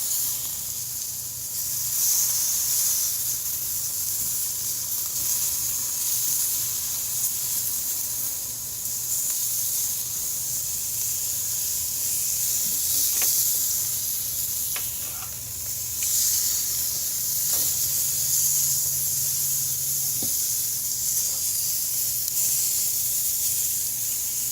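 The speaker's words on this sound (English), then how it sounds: "You got a little flare up coming up under that one." Steaks sear on a grill with a flare-up, giving a steady, continuous sizzling hiss throughout, with a few faint clicks and taps from handling.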